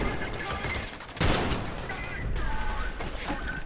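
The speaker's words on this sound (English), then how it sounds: "Yeah, I can just shoot them up." Gunfire in the shooter game Trepang2 as laser gates get shot up: a burst of close, loud shots with a sharp attack near the middle, then continued rattling fire and game noise, with some speech-like sound underneath.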